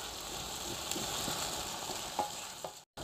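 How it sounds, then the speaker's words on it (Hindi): Soft steady sizzle of tomatoes frying in masala for chicken karahi, with occasional light stirring scrapes, close and fairly quiet, briefly cutting out near the end. "अच्छी तरह मिक्स करेंगे और इन्हें तकरीबन 3 से 4 मिनट के लिए अच्छी तरह फ्राई करेंगे"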